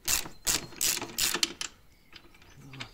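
A hand ratchet fitted with a 22 mm socket clicks through several quick bursts of rapid pawl clicks, close and fairly quiet, then trails off into softer scattered ticks.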